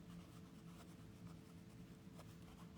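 Pen scratching across paper in quick, uneven strokes, faint and close against a steady low room hum.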